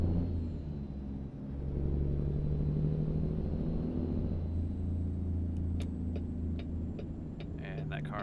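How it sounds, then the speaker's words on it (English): A car from American Truck Simulator, heard as a steady low engine rumble with a road-noise hum throughout, swelling slightly as a vehicle passes, with faint clicks near the end. "And that car totally just ran a red light."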